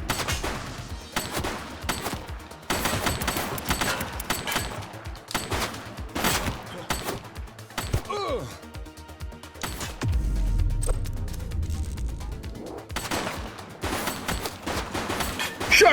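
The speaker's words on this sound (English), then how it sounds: "Shots fired!" Repeated bursts of gunfire in The Precinct, a police video game, loud rapid volleys cutting in and out with short gaps, a deep rumbling swell midway before the shooting resumes.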